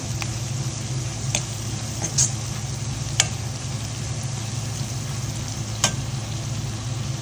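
Chicken frying on a low flame gives a steady, moderate sizzle over a low hum, broken by a handful of sharp clicks and stirring knocks spaced a few seconds apart.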